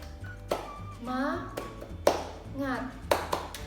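Students do a rhythmic spirit clap, three sharp, loud clap bursts spaced out, with chanting voices between them.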